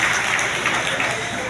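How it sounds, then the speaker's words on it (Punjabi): A live standup comedy audience claps, producing a brief, dense burst of applause that runs steadily from start to finish. "ਜ਼ੋਰਦਾਰ ਤਾਲੀਆਂ ਮੇਰੇ ਵੀਰ ਵਾਸਤੇ"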